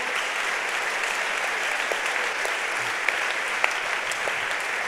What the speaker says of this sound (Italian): Li vogliamo accogliere con un applauso.